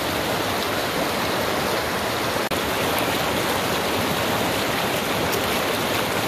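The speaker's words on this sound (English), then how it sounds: "We're so close to the waterfall. They call that Donut Waterfall." Donut Falls waterfall in Big Cottonwood, Utah, a steady broadband rush of falling water heard close and unbroken, with one brief click partway through.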